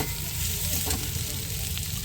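Cashew nuts and raisins fry and sizzle in a pan while being stirred, a steady close crackle running without pause.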